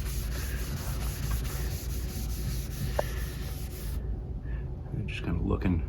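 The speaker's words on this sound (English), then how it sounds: "Now that we have everything sanded and prepped," Steady, close rasping of hand sanding on furniture being prepped for paint or stain, a continuous rub that stops near the end and gives way to quieter handling noises.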